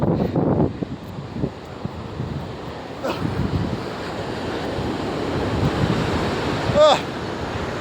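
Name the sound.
river flowing at Kajulu waterfalls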